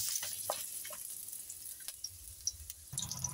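Garlic sizzles in hot oil in a pan at the start of a bamboo shoot adobo, a steady close hiss with a few light crackles and scrapes throughout.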